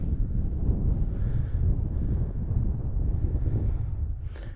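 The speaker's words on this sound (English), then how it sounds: "Bit breezy, but I'm happy about that." Steady breezy wind at a forest wild camp, a loud, continuous low rumble buffeting the microphone with faint rustling on top and no pauses.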